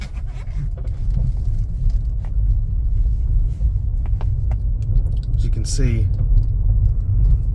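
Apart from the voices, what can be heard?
road noise inside Chevy Volt Premier while driving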